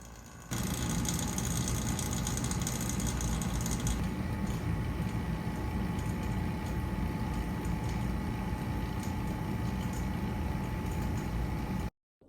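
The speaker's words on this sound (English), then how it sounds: "While the vacuum pump does its thing" A vacuum pump evacuates the AC system of a Camaro, running as a steady loud mechanical drone with a fine rattling texture, unbroken for about eleven seconds before cutting off abruptly.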